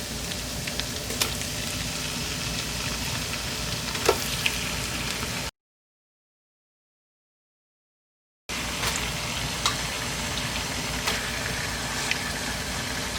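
Chicken frying in korma masala in a large pot, a steady close sizzle with occasional stirring knocks, broken by a silent gap of about three seconds midway before the frying resumes, with no talking.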